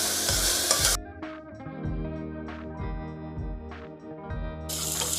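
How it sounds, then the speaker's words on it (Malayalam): Ground spice paste frying in a pan while being stirred: a steady close sizzle with repeated scraping strokes at a regular pace, and a brief spell where it drops back to a softer simmer before the hiss returns. "അരപ്പൊന്ന് നമുക്ക് മൂപ്പിച്ചെടുക്കാം"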